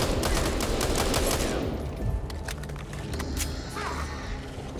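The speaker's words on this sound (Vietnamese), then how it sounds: "Cái súng M4 này của mình nó nhiều đạn thiệt, nhưng mà băng đạn của nó thì là hết có 30 viên thôi." M4 rifle firing in Back 4 Blood: a dense burst of rapid automatic gunfire for over a second, loud and close, followed by scattered shots and game noise.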